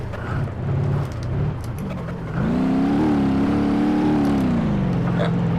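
A BeamNG.drive game car's engine drones loudly and steadily while the car drifts, its pitch rising and holding as it revs, up close and with no speech over it.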